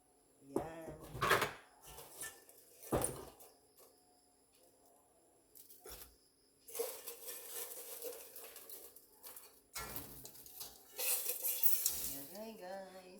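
Pancit bihon rice noodles being stirred in a pan of broth, with bursts of scraping, sizzling and utensil clatter separated by quieter pauses, fairly close.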